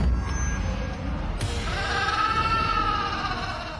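A goat bleats in a long, wavering cry over a dense, noisy background, loud and close, stretching through most of the moment.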